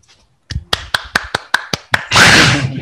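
A few people clapping after a talk at a software developer conference, about eight sharp separate claps, then a short burst of fuller clapping, close and fairly loud.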